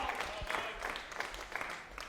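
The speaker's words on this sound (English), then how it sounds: "good to hear the crowd here at the MODUS Super Series" A darts match crowd at the MODUS Super Series claps and cheers for a couple of seconds, a muffled wash of applause with a voice talking over it.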